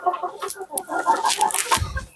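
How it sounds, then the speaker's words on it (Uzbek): A backyard flock of hens and roosters, including a white hen of a non-Andijan breed, clucks in short, overlapping calls close by, with no talk. "Qancha keladi mana xorozlari."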